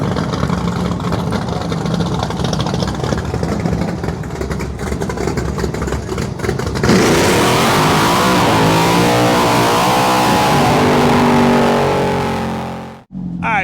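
A 2018 Suzuki GSX-R 1000 motorcycle engine warms up at a drag strip on a cool day. Loud, close revving swells in after a stretch of rougher noise, holding high tones before cutting off abruptly near the end.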